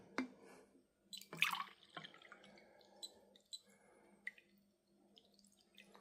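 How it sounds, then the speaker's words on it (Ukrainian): Drinking water from a street pump in Poltava is poured from a container into a glass, heard as a close, quiet series of irregular trickles and splashes with short pauses and no voices. "Переливаємо воду в стакан."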